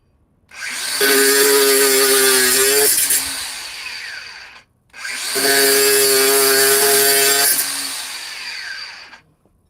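A DeWalt FlexVolt cordless grinder runs in two long loud close bursts of several seconds each, whining with strong tones and a rough rasping edge, with a short pause between them.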